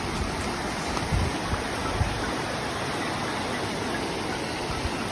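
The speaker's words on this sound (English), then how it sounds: "I wanted to get closer to the waterfall" Waterfall and creek along the Perseverance Trail in Alaska, a steady broadband rush of falling and flowing water close by, continuous and fairly loud throughout with no talk.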